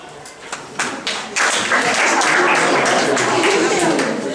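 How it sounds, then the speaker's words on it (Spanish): Applause breaks out after a student debate presentation: a few scattered claps build into sustained, loud clapping from a school audience, with voices mixed in. "Por favor, no se aplauden después de la presentación"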